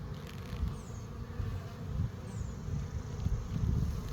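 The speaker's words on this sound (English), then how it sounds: "Looks like there's more bees on this frame" Honey bees buzz in a dense, continuous low drone, close by, with the sound swelling and easing slightly throughout.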